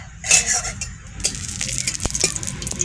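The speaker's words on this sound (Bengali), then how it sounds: "তেল গরম হয়ে গেছে, ফোড়ন দেবো, শুকনো লঙ্কা" Dry red chillies hit hot oil in a pan with a sudden crackling sizzle, then keep frying in a steady hiss broken by sharp metal clinks of a spatula against the pot.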